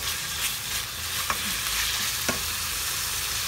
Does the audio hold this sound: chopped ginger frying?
yes